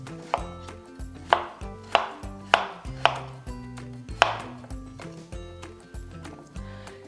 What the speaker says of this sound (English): Cut the potatoes to a similar size